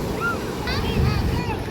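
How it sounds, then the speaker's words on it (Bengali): Sea waves wash in along the shore while a breeze blows across the microphone. A steady, close rumble of surf and wind runs throughout, with voices talking over it. "কি সুন্দর হাওয়া হচ্ছে, আর দেখো কি সুন্দর ঢেউ"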